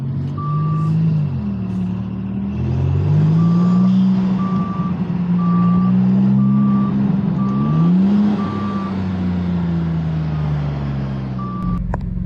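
A truck's reversing alarm beeps in a steady repeating series over its loud, close diesel engine, which rises and falls as it maneuvers to back up, with a pause in the beeping midway.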